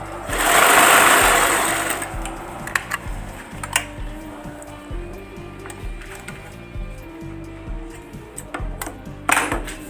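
Umbrella sewing machine running after a tension adjustment, a loud whir at the start followed by a rapid, even mechanical ticking of stitches with occasional sharper clicks.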